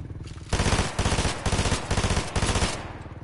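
Automatic gunfire in a video game, several tight bursts of rapid shots separated by short pauses, fairly loud and close with a steady rhythmic rattle and no talk.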